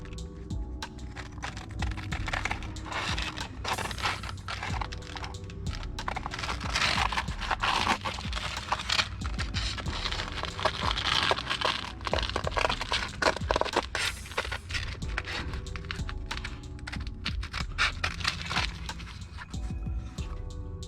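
Grip tape is cut around a Glock, giving continuous close, faint scratchy cutting and crinkling noises with irregular ticks and tearing sounds throughout, and no talking.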